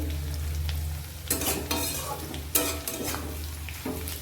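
Bottle gourd peel frying in a pan, with a steady close sizzle broken by three loud scraping stir strokes at irregular intervals; no voices.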